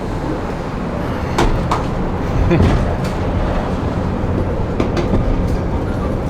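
A tram in Kaliningrad rolls along with a constant low rumble and rattle, with occasional clanks and knocks from the car and faint voices inside.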